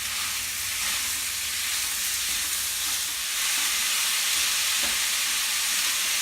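About a pound of 85/15 ground beef frying in a pan, a steady broad sizzle that holds throughout and swells slightly louder in the second half, close and alone with no talk.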